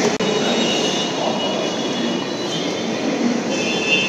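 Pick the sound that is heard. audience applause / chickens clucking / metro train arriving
metro train arriving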